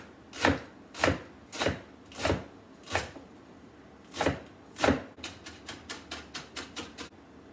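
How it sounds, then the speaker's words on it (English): A knife chops leeks finely on a cutting board for potato and leek soup, first with seven slow, evenly spaced crisp strikes, then a quicker run of about ten lighter taps, close up with no talking. "Okay, so now that it is clean, we're going to chop finely,"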